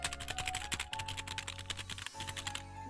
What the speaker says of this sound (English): I'm gonna click it. Tell me if you can hear the click.